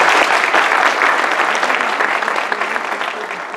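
A room full of people claps in steady, dense applause that stays loud and then eases off slightly toward the end.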